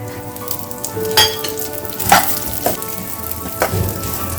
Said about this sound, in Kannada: ಇದನ್ನ ಇದೇ ತುಪ್ಪದಲ್ಲೇ ಹುರ್ಕೋಬೇಕು